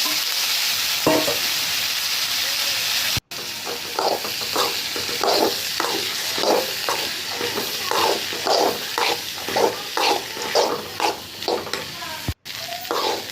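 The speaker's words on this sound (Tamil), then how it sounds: "கொட்டி கலரி விட்டுக்கலாம்." Boiled cowpeas (karamani) tumble into a pan of masala and are stirred, a steady sizzle at first, then repeated rhythmic scraping and clacking of a spoon against the pan over a soft fry, close and clear.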